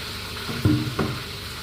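Vegetables and ingredients drop into a pot of boiling water with two quick splashy plops, close by, over a steady bubbling hiss.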